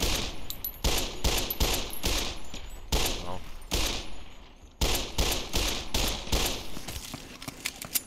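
Rapid bursts of automatic gunfire from the Fallout New Vegas video game, loud and close, firing in clustered volleys with brief pauses between them.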